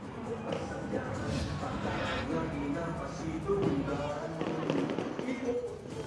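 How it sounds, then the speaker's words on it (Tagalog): Fireworks pop and crackle in bursts over the Iloilo River after a festival awarding ceremony, partly covered by nearby voices and crowd talk. "Nagtakop naman ang awarding ceremony pinaagi sa fireworks display sa Iloilo River."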